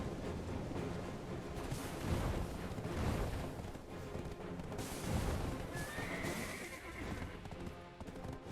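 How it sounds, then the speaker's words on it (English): The Arduanatt, a mythical horse in the Black Desert video game, gives a loud, drawn-out whinny over a dense wash of game noise, with hoofbeats and deep rumbling booms. "Our new shiny horse."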